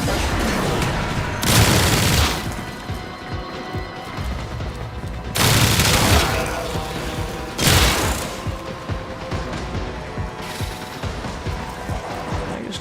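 Rifle shots in the video game Warframe: four heavy, booming blasts at uneven intervals, each with a ringing tail fading into a continuous background of game ambience.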